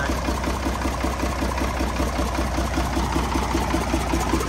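A Weichai 380 diesel engine runs smoothly at a steady idle, its close, even, rapid chugging pulses repeating without a break and no voices over it.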